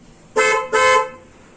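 A pressure horn fitted to a Hyundai Santro Xing GLS car sounds two loud, close honks in quick succession, each about a quarter second, then quiet.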